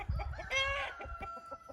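Marans hens on a French poultry farm clucking close by, a few short clucks with one louder drawn-out call in the middle, no voices.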